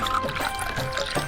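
Water mixed with a little powder pours into a cartoon vehicle, a short gurgling, trickling splash at close range with no speech.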